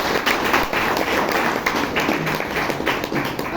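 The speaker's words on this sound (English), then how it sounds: "Can we hear a round of applause?" Newly installed members of a Bangalore Toastmasters Club receive a round of applause, a steady, moderately loud patter of many hands clapping in a meeting room, sustained evenly throughout without speech.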